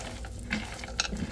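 Chiles get stirred in a pan over medium heat, giving a soft, close sizzle with light scraping and patter as they are moved about, brief and without talking.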